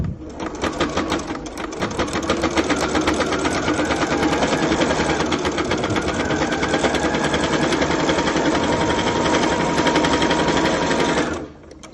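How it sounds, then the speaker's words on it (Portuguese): A sewing machine topstitches a clutch bag slowly in one steady, loud mechanical run of about ten seconds before stopping abruptly. "vamos fazer bem devagarinho esse pesponto aqui"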